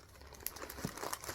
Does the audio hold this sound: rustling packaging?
yes